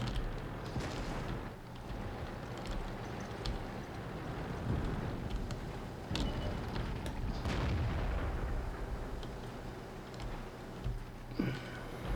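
Heavy artillery fire in World of Tanks thuds out in several booming blasts over a rumbling, windy battlefield, with the shots spread irregularly across the stretch.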